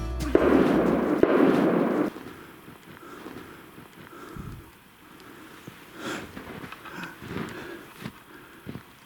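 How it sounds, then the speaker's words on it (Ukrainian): A loud burst of sharp cracks at the start, then scattered faint pops and rustling outdoors, like distant gunfire during a hare hunt. "Але вдалечині пролунали постріли."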